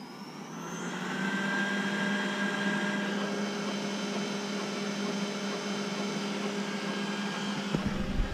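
A robot vacuum cleaner starts its cleaning run in a kitchen, giving a steady, moderate motor whir and brushing hum that holds for several seconds with no talk.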